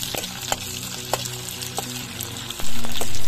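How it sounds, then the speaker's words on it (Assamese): Chopped onions hit hot mustard oil in a wok, a loud close sizzle with scattered crackles that swells into a strong steady frying hiss in the final second. "তাৰপিছত কটা পিঁয়াজখিনি তেল গৰম হ'লে দি দিব পাৰে আপুনি"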